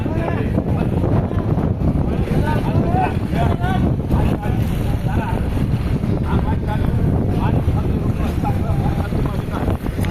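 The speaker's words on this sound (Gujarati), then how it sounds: "પવન બહુ છે." Strong wind buffets the microphone at an outdoor wheat auction market in Gondal, a constant loud rumble that runs the whole time, with voices of the crowd and an auctioneer talking throughout.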